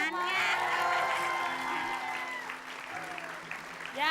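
Studio audience of an Indonesian TV show breaking into loud applause with scattered cheers, a thick wash of clapping that tapers off, while a host keeps talking over it.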